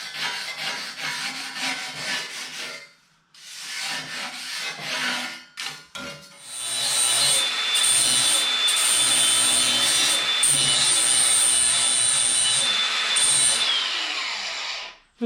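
A power tool grinds a bevel into a metal railing before welding, first in short rough passes and then in a long, steady, loud grinding run with a high whine, heard close and alone.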